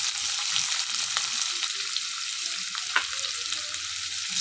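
Cumin and onions sauté in hot oil, giving a constant, even sizzle up close with occasional light clicks of a stirring spoon.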